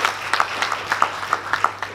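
Sparse, uneven clapping from an audience at a youth event, with individual claps sounding out in a loose rhythm rather than a full ovation.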